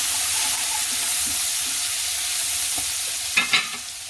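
Ground allspice being stirred into okra frying in a pan for a Mediterranean-style dish, a steady sizzle running throughout with a couple of louder scraping stirs near the end, no talking.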